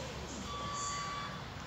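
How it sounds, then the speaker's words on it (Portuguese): The automatic trunk of a 2018 Porsche Panamera 4S E-Hybrid gives a faint, thin, sustained electronic beep tone against quiet background hiss. "Ele tem abertura automática."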